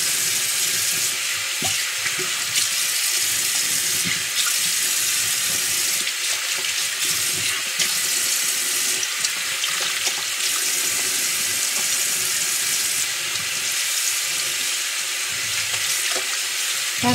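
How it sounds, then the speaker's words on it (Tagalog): Tap water runs steadily into a sink for rinsing off a niacinamide face treatment, a continuous close splashing hiss with small irregular splatters and no talking. "Tapos rinse out mo siya ng water."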